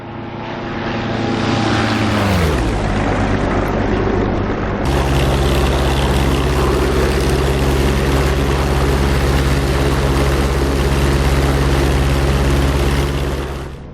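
Jet aircraft making a flyby over the Syria map in the DCS flight simulator game, a loud engine roar whose pitch sweeps down as it passes, then a sustained broadband rumble and hiss.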